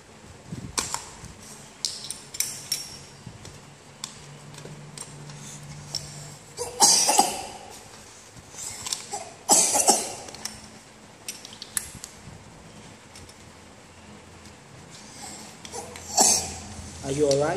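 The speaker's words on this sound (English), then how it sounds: "I'm coughing." A three-year-old boy coughs in short bursts scattered across the stretch, with clinking cutlery and dishes and bits of talk around him indoors.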